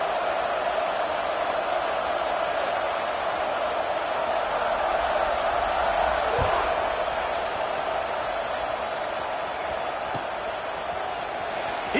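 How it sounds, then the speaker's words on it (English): A football stadium crowd buzzes after a score, a steady, dense roar of many voices filling the whole stretch at an even level, with no single voice standing out. "this crowd is buzzing after that last score"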